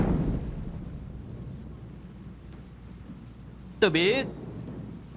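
Heavy rain falls during a thunderstorm with a low, continuous rumbling wash in a period martial-arts drama scene, and a person briefly speaks partway through over the storm noise.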